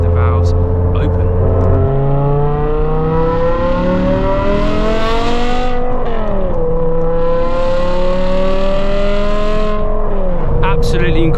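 A BMW M5 Touring V10 with a fabricated valved catback exhaust and Eventuri intake, valves open, revs loud and close in two long sustained climbs with rich harmonic howl, dropping back between pulls, continuous throughout.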